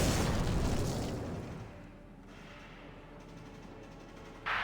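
A grenade blows up a bunker in Valkyria Chronicles, a loud deep boom that rumbles and fades over about two seconds, followed by quieter game ambience and a short burst of noise at the end.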